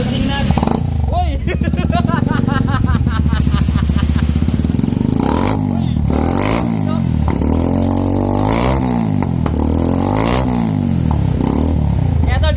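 A motorcycle fitted with a shark tip exhaust pipe rumbles loudly and close, then revs repeatedly in rising and falling swells, with voices calling out over the engine.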